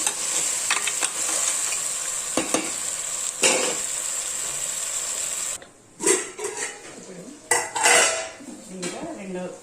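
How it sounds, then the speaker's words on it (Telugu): Metal utensil scraping and clanking in a pot while stirring curry with added water, a continuous sizzling hiss for several seconds, then sparser louder scrapes. "ఇలా బాగా కలుపుతున్నాను."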